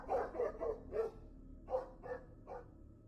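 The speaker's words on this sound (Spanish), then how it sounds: "Los perros se volvieron locos y empezaron a ladrar por todos lados." Dogs bark frantically in a horror tale, a run of about seven sharp, fairly close barks: four quick ones, a short pause, then three more spaced out, with no talking.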